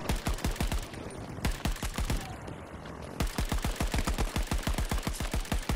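Semi-automatic gunfire in the video game Battlefield 2042: rapid, evenly spaced sharp shots in quick bursts, with a short pause between bursts, loud and up close, with no speech.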